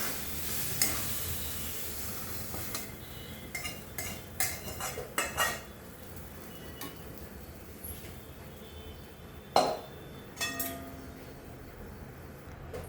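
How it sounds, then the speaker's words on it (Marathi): Cooked sandwich vegetable filling scraped from a pan onto a plate, with a spoon clinking and scraping against metal in scattered, sharp knocks and taps, some louder, over a faint background hiss. "आपली सँडविचची भाजी रेडी आहे। आपण ताटात काढून घेऊ।"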